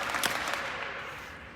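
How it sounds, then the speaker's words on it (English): Scattered audience clapping at a TESOL keynote in Pittsburgh, a brief burst of claps at a distance, fairly soft, with no talk over it. "Clap twice."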